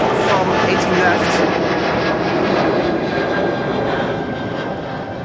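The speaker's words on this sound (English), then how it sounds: "Dreamliner to Kilimanjaro just now took off from 18 left" A Boeing 787 Dreamliner taking off from runway 18 left, a loud, steady broadband jet roar that fills the whole clip and eases slightly toward the end, with a voice talking over it.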